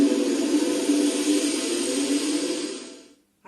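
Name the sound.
recorded motorcycle sound in a listening game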